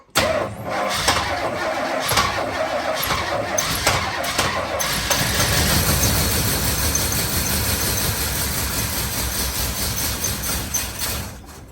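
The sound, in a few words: 1985 Chevy Suburban C20 engine cranking and starting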